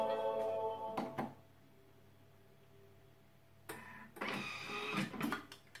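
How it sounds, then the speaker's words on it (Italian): A Thermomix food processor chops parsley at its top speed: a whirring motor burst at the start, a quiet pause, then another stretch of whirring and clatter, with no voices. "andiamo a tritare ancora per altri 10 secondi a velocità 10"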